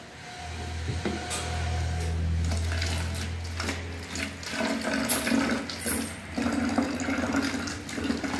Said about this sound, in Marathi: सर्वप्रथम मी या बॉटलीत गरम पाणी ओतून घेतो.